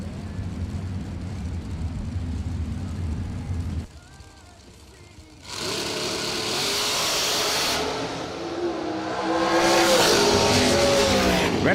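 A bracket drag racing car at the Jegs Super Bowl of Bracket Racing idles and rumbles, then launches with a sudden loud roar. The engine note wavers as the driver lifts off the throttle, while an announcer talks over it.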